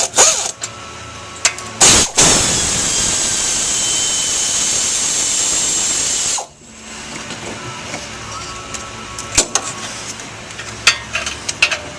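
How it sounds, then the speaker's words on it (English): A power tool whirs loudly and steadily for several seconds while backing out half-inch brake caliper bolts on a Ford truck, then stops, leaving scattered metallic clicks and clanks close by. "you got to remove these two bolts right here. Just a standard 1/2 inch bolt."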